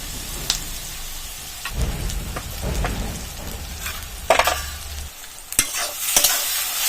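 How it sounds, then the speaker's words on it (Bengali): Tomato and turmeric fry in oil in a pan for a Bengali country-chicken curry, with a steady sizzle and intermittent stirring scrapes. The sizzle stops near the end and a few sharp clinks follow. "আর একটু ভাজা হবে।"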